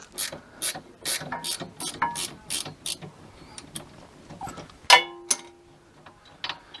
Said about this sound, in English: thank goodness for ratchet spanners